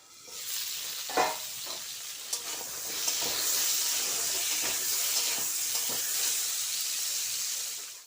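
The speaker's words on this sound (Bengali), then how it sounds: "চুলার আঁচটা কমিয়ে ঢাকনা দিয়ে পটলটা ভালোভাবে ভেজে নেব।" Pointed gourd (potol) frying in oil in a covered pan over low heat: a steady, moderately loud hiss and sizzle runs throughout, broken by a few sharp pops and occasional clinks, with no talk.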